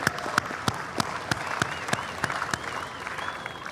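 Audience applause at a large outdoor culture festival, a steady wash of many clapping hands with some sharper individual claps standing out, at moderate distance.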